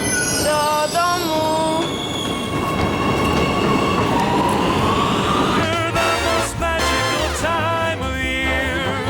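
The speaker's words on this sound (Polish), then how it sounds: "Właśnie w metrze i jedziemy" A Warsaw metro train riding through underground tunnels, loud and close from inside the carriage, with a constant rumble, rising wheel squeal and rhythmic clatter as it travels.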